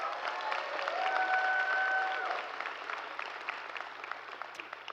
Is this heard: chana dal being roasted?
no